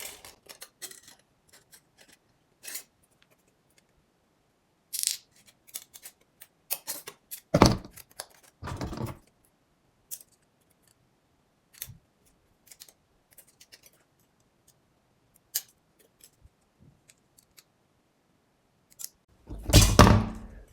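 Scissors snipping tissue paper to cut out a propeller blade for a rubber band powered model airplane, sparse close clicks and short cutting bursts separated by quiet gaps, with a louder rustle near the end.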